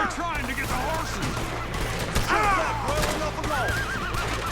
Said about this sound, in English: They're trying to get the horses.